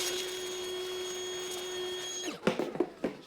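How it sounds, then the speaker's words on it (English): A vacuum cleaner runs steadily with a whining hum while cleaning dust and grit around the upper intake manifold of a 2006-2008 Honda Pilot, then shuts off and winds down, followed by a few close clunks and scrapes. "I like a vacuum, so all that dust's not kicked up in the air. And we'll just vacuum this really good first"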